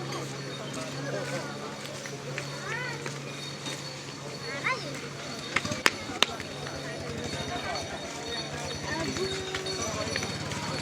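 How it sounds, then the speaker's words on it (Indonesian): Horse hooves clip-clop on the ground at a lakeside tourist spot, Telaga Sarangan in Magetan, East Java, steady hoofbeats mixed with crowd chatter and voices nearby. "di sini ada kuda juga"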